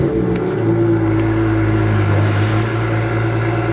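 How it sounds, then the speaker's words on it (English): A 2017 BMW M2 Coupe's engine runs with a steady, loud exhaust drone close by, holding a constant low rumble throughout without revving up or down. "this car, when it starts, I mean, yeah, the exhaust is quite the sound"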